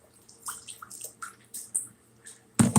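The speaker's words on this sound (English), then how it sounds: "I don't have enough water in this tub." A bathtub is filled with hot water: scattered small drips and squeaks in near-quiet, then a sudden loud rush of running water at the end.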